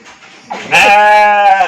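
A sheep bleats loudly and close by in a pen, one sustained wavering cry that swells after a softer lead-in.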